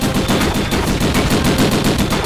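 Machine gun fire in Conflict: Vietnam, a loud, close, continuous rapid burst of shots at a steady fast rhythm, alone with no talk.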